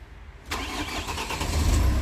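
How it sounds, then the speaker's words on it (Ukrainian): A car engine cranks and catches, a sharp onset of starting noise that settles into a steady, rough idle, close and alone with no talk. "О, завівся."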